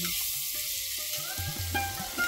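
Spices, coriander powder, homemade garam masala and ground paste sauté in a pan with a soft, continuous sizzle and intermittent stirring scrapes and knocks nearby, no voices.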